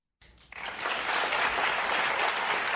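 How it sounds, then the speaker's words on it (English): Studio audience applause during an interview with Dr. Willie Parker, starting after a brief quiet lead-in and swelling into steady, dense clapping that stays loud to the end. "Yes, clapping for killing babies"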